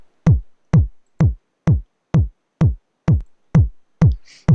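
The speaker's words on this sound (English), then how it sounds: "And I can throw back in distortion 2 while we're at it." Music run through a distortion effect plugin, heard as a steady beat of nine punchy, bass-heavy drum-like hits spaced about half a second apart, loud and alone.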